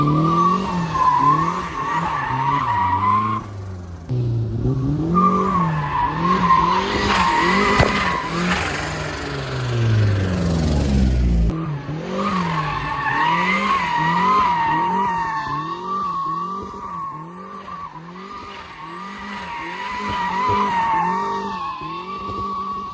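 A Mazda Miata drifts with its tires skidding and squealing loudly in repeated wavering bursts over a revving engine, the squeal rising and falling as the car slides through turns.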